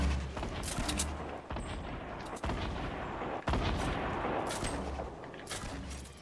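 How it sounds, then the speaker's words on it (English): Several sharp gunshot bursts from a Fortnite match, fairly quiet, spaced irregularly over a rumbling battle background. "The other one's shooting at me."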